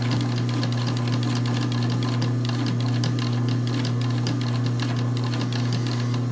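A Pfaff sewing machine driven by a clutch motor runs steadily throughout, a constant motor hum under a dense, even clatter of stitching, close and alone with no talk.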